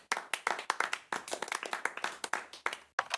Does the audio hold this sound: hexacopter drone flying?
no